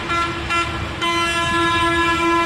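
A metro train passes close by at Uttara North station beside an open cattle-market ground, with a steady electric whine and a sustained tonal horn-like note, loud and continuous throughout.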